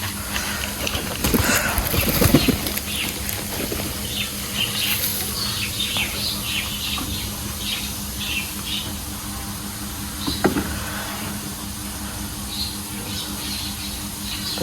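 Pouter pigeons, including a blue magpie female, shuffle and flap in a loft, with a burst of wingbeats early on and occasional soft calls and rustles over a steady background hum.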